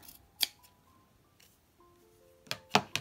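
A few crisp scissor snips trimming excess fluff from a needle felt reindeer: a single snip early, then a close cluster of sharp cuts near the end, with quiet gaps between.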